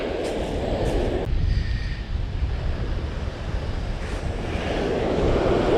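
Strong wind buffets the microphone over a steady roar of surf on a stormy beach during surfcasting, loud and constant with gusty rumbling throughout.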